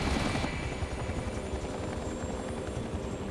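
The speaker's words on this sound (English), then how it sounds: "As helicopters come and go" Helicopters come and go during hurricane Katrina rescue operations, with a steady, loud rotor chop and engine drone throughout and a brief, louder burst at the start.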